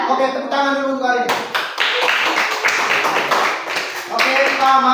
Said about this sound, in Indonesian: Oke, tepuk tangan dulu untuk kali ini.